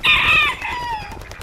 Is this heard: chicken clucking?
yes